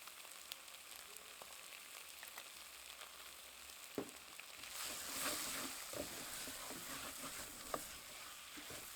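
Powdered spices frying in a simmering sauce give off a steady bright sizzle and crackle, with a few stirring knocks and a swell of hissing midway, close and alone.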